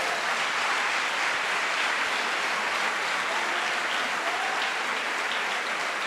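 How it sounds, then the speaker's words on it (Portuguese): Congregation applause at a church service, a steady, dense wash of clapping from a large crowd, sustained evenly and alone throughout. "vamos dar uma salva de palmas para Jesus"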